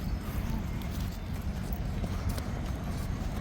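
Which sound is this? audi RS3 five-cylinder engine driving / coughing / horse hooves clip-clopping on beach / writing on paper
horse hooves clip-clopping on beach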